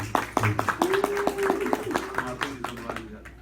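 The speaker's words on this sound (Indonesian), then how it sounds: "Tepuk tangan buat Ping-Ping" A small church audience claps sparsely for Ping-Ping. The claps are separate and uneven, with a voice speaking and a sustained tone beneath them, and they fade out near the end.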